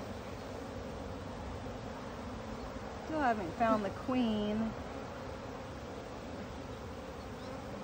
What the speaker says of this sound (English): What's hanging off the bottom? A bunch of bees.